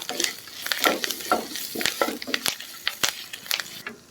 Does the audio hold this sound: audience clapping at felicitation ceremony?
no